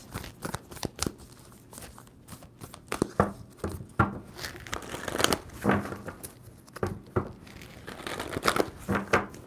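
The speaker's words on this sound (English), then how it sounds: "Two more shuffles for Taurus." Tarot cards riffle and snap in quick irregular bursts, a crisp papery shuffling close by with no talking.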